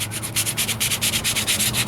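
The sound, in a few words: sanding Ford Ranger wheel arch with 320 grit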